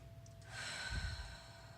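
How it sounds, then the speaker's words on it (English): A single slow, deep breath drawn in and let out close to the mic, soft and breathy against a quiet room. "So just take a nice deep breath."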